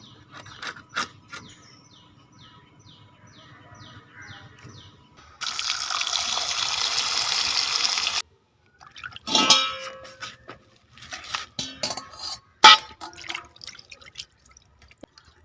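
Mackerel pieces for a Mangalorean curry are rinsed under a running tap, with a few seconds of steady water flow between scattered drips, splashes and handling clatter close by.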